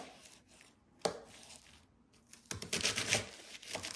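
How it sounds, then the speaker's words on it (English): A knife slicing cabbage thinly for a vegan meal prep, soft scattered taps and then a quick, crisp run of chopping strokes on a cutting board, close and clear. "I am cutting my cabbage rather thin."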